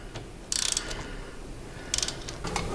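Quick bursts of ratchet clicking from a ratchet with a swivel tightening a bolt on a Two Bros motorcycle exhaust, two short close runs of rapid pawl clicks with quiet pauses between.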